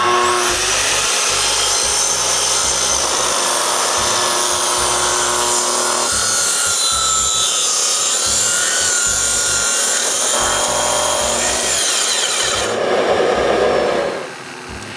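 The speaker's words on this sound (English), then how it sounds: "It's really easy to know where to start the plunge with this saw, because there's a mark on the casting for the start of the blade cut" A plunge saw running on a guide rail cuts through a wooden beam, making a loud, continuous close-up whine and rasp that shifts in pitch as the blade moves through the wood, then stops abruptly.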